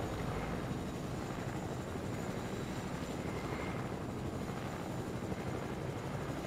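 A helicopter in flight produces a continuous engine and rotor drone, moderately loud and even, with faint swells and no voices over it.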